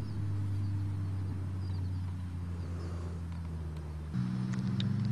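Engines drone steadily from a turbo Volvo 760 racing a Buick Regal 3.8 across a field, a low sustained hum that shifts pitch near the end, fairly distant and without talk.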